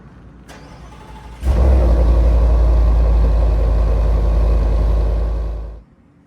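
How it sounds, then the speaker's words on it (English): A 2025 Ford F-150 LOBO pickup fires up with a sharp burst, then settles into a deep, rumbling idle through a throaty black-tip dual exhaust before cutting off. "you get this nice black tip dual exhaust system that does sound a little bit more rowdy"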